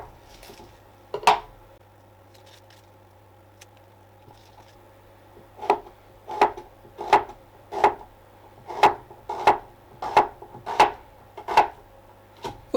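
A knife finely slices a peeled onion on a board, giving one crisp chop and then a steady run of about a dozen close, evenly spaced cuts over a low background hum.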